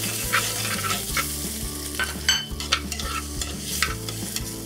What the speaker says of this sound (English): We'll add a little more oil. We'll cook up the ginger and garlic.